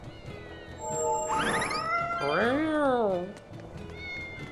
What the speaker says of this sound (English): There's a normal cat here too.